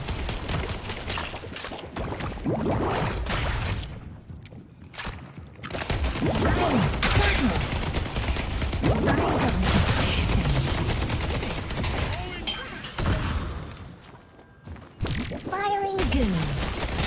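Goo weapon firing in the Deadlock video game, dense bursts of shots and splattering impacts layered over loud game noise, while a person talks over the action.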